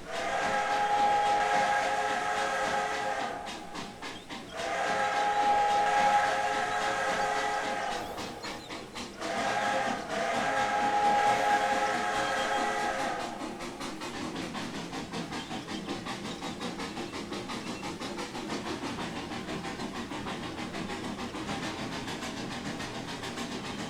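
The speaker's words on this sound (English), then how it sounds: "we've heard this entire chuff sound set before" A CP F1a Jubilee 4-4-4 steam locomotive in the Trainz 2022 simulator gives a long steam whistle with several held blasts, followed by a steady rhythmic chuffing that goes on fairly quietly with no talk.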